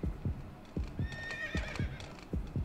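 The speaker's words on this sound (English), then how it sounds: "Did I just hear a horse?" In the Yomawari video game, a horse whinnies loudly in the middle while its hooves clop in a steady rhythm throughout, fairly near and with no voices over it.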